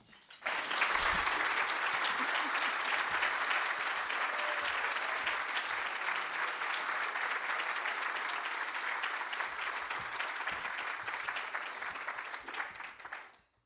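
A large audience at the City Club of Cleveland claps steadily for about thirteen seconds as a guest is welcomed on stage. The applause is loud, dense and sustained, then drops off sharply at the end.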